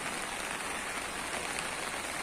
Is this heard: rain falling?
yes